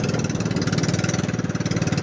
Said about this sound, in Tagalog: Yung motor namin ay sadyang maingay talaga to.